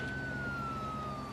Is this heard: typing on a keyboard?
no